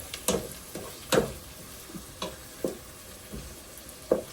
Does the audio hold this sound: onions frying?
yes